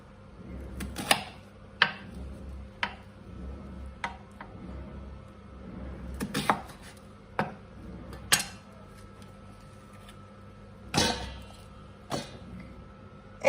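Sharp knife strikes on a cutting board chopping vegetables, spaced irregularly with several louder chops, over a low background hum; no voices.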